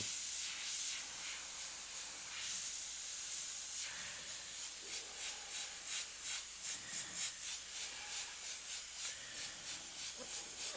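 An airbrush gun sprays oxide brown paint, giving a soft, quiet hiss. The spray comes in short bursts and pulses, then turns into a more sputtering, uneven rhythm toward the end.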